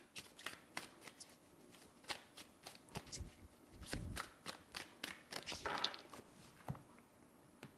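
Tarot cards shuffled by hand close up, a quick series of soft slaps and riffles in an uneven rhythm, fairly quiet with no talk.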